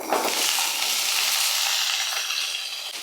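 Raw hog plums sizzle in hot oil with chillies and fenugreek, a loud, bright, continuous frying hiss heard up close that settles slightly after the first splash.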